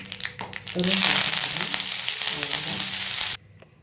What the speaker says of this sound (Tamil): உளுந்து, உடைச்ச உளுந்து, கொஞ்சமாக பெருங்காய பொடியும் சேர்த்துக்கிறேன்.